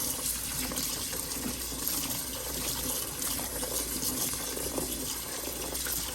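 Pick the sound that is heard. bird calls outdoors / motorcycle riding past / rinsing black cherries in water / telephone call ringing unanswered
rinsing black cherries in water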